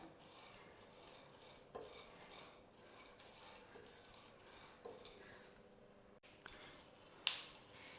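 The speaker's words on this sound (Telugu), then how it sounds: "ఇదే పాన్లోకి water melon seeds, pumpkin seeds వేసుకొని వేయించుకోవాలి" Watermelon and pumpkin seeds are stirred in a pan as they roast for a dry fruit jaggery chikki, faint scraping and rustling with a few soft metallic clinks and a sharper clatter near the end.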